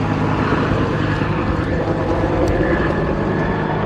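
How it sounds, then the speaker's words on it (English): A firefighting helicopter working the Keremeos Creek wildfire near a highway, its loud, steady rotor and engine roar dominating the scene without pause. "see that helicopter coming around, moving its way and trying to hit this wildfire"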